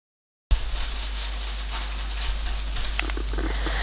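Turkey meat hits a hot pan and starts frying: a sudden onset of loud, steady sizzling and crackling that continues evenly, with a few brief stirring scrapes toward the end and no talk.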